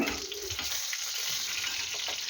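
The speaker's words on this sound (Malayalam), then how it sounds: "കടുക് പൊട്ടി വന്നിട്ടുണ്ട്" Mustard seeds crackle and splutter in hot oil, a steady close sizzle with small popping bursts and no voices.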